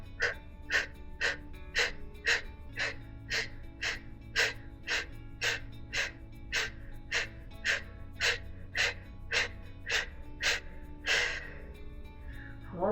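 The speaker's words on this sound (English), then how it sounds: "Almost kind of like you're blowing out a candle repeatedly." Rhythmic, forceful yoga breath exhalations from the nose, short sharp puffs like blowing out a candle, about twenty in steady succession close to the microphone, without talk, in a hatha yoga session.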